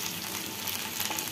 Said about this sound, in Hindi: कटहल को हम अच्छे से फ्राई करेंगे